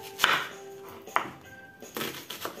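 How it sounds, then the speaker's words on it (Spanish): A knife chops onion into small pieces on a board: a few distinct, close cutting knocks spaced irregularly over a couple of seconds, with no talk. "Empezamos cortando la cebolla a trozos pequeñitos"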